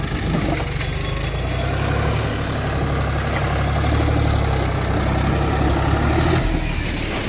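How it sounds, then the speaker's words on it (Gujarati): A tractor engine runs loud and close while it arrives to unload mangoes, a continuous low rumbling idle with no pause throughout. "એટલે સેકન્ડમાં પણ ટ્રેક્ટર આવી ગયો"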